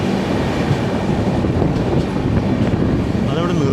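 The Kovai Express, a passenger train, runs on and slows down with a dense, steady rumble and rattle heard from on board, with faint voices in the background.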